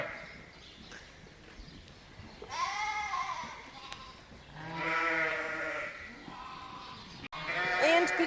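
Ewes on a sheep farm, heavily pregnant and due to lamb, bleat in a series of loud, wavering calls from close by, several overlapping at times, with quieter stretches of barn noise between them.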